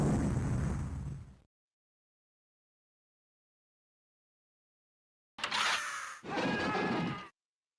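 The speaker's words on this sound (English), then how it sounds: "Missile away. Let's rock. Missile away." Electronic missile launch effect in a laser tag arena during a Laserforce match: a loud synthetic whoosh that cuts off abruptly, silence, then two more sharp burst effects close together.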